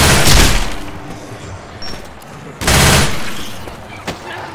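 Gunfire in Left 4 Dead 2 in an underground level, with two loud bursts of shots separated by quieter moments and a single sharp crack near the end.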